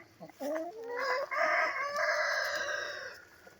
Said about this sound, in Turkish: Maşallah siyah horozumuz.